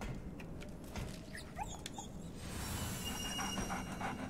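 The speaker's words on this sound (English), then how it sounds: "Just get close to the dog and it'll have a thing to pat its head." A dog in Remnant: From the Ashes gives a few soft, high whimpers near the middle of the moment. They sit quietly over low game ambience, and a hissing wash rises toward the end.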